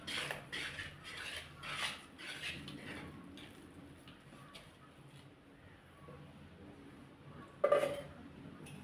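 A spoon stirs powdered flattened rice (aval) into coconut milk in a bowl for halwa, giving soft repeated scraping and clinking strokes in the first few seconds, then quieter, with one sharper clink near the end.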